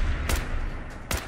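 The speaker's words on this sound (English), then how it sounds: "Watch his headshot right here." A headshot gunshot in Fallout 4 fires as two sharp, loud cracks about a second apart, each a brief broadband burst over a steady low rumble of game ambience.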